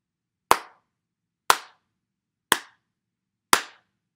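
A slow clap: four single sharp hand claps spaced evenly about a second apart, close and dry, with silence between them and no talk.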